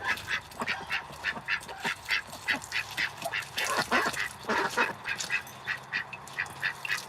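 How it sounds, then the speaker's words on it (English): Ducks on a farm quack in a steady chorus of repeated calls, close and lively, continuing throughout with no talking. "ducks are gross"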